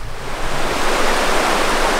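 A clear, shallow river flows in a loud, steady rush of broadband water noise, close and continuous with no voices.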